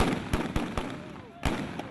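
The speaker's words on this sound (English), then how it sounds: "Stun grenades and tear gas exploded in the streets of Ferguson" Stun grenades going off in the streets of Ferguson, Missouri during a night confrontation: four sharp, fairly distant bangs in irregular succession, with muffled crowd noise between them.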